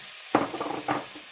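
Garlic and ginger dropped into hot melted butter in a pan, producing a sudden close sizzle with a second spattering burst shortly after, then a steady frying hiss.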